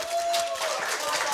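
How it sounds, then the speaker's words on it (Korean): Brief audience applause at a middle school students' speaking festival after a magic trick with a volunteer, a soft wash of clapping beneath a person talking over it. "수고한 규식 씨를 위해 박수 부탁드립니다"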